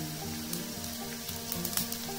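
Garlic, dried red chillies, chana dal, urad dal, mustard seeds and cumin sizzling in hot ghee for a tempering, a steady close crackle with occasional sharper pops.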